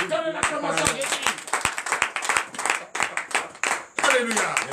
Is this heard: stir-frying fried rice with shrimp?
no